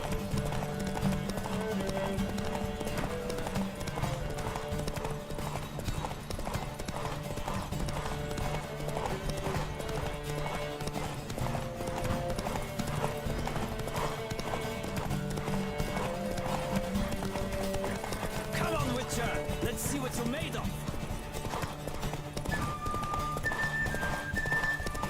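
Horse hooves galloping in The Witcher 3 Wild Hunt, a steady rapid clip-clop rhythm running the whole time under game music, with a brief whinny.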